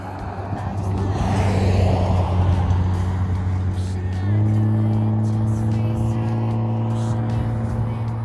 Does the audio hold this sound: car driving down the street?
yes